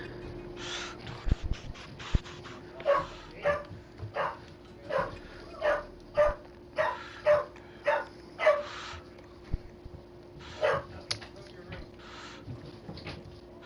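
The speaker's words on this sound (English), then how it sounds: "Oh no, they're barking upstairs." Dogs barking upstairs in a house, a regular series of a dozen or so loud, excited barks heard through the ceiling, somewhat muffled and distant, with occasional yips and a steady electrical hum beneath.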